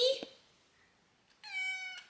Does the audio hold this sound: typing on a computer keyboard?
no